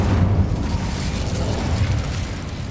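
A fiery Incendio blast spell cast in Hogwarts Legacy, heard as a sustained loud roaring, rumbling burst of flame that fills the moment at steady strength, with no talking.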